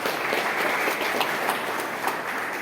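An audience at a heavy water plant safety event claps steadily throughout, a dense, even wash of applause with no voices over it.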